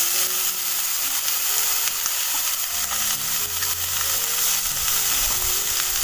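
Chopped ridge gourd goes into a pan of onions browned in oil with cumin, setting off a loud, steady sizzle with scattered crackles and a low rumble of stirring, no voices.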